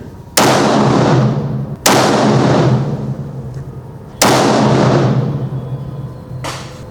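Sharp rifle gunshots from 73 grain Hornady ELD rounds at an outdoor range, three loud close reports with long decaying echoes and a fainter fourth shot near the end, no talk.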